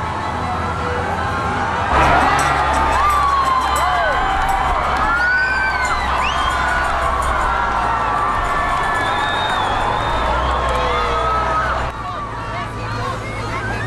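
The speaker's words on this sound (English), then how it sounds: "their cheering echoing through city streets as he passed" Crowds lining Sydney's city streets cheer and whoop as the Pope's motorcade passes, a loud continuous roar of shouting voices with rising whistles and calls, plus a low rumble of vehicles beneath.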